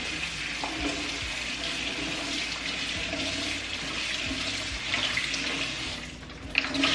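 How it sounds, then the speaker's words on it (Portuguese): Tap water runs steadily over fruit being rinsed in a kitchen sink, a continuous close splashing hiss with small clatters and a brief dip near the end. "Agora vou passar novamente por água."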